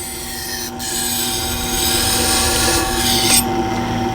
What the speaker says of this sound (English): we'll push the knife through the holder and bring it down and just pull it through